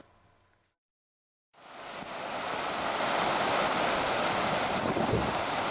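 Sea waves wash onto a beach at Järvsaare coastal forest on Naissaar island, a steady broad roar of surf with wind noise, rising in after a brief silent gap and staying loud and continuous.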